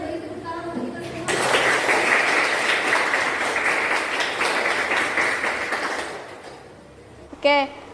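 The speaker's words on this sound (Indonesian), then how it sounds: "Silakan semuanya beri tepuk tangan untuk kita semua." Classroom applause from students, a sudden burst of many hands clapping that follows brief talk, holds steady for about five seconds and fades, ending with a short sharp knock.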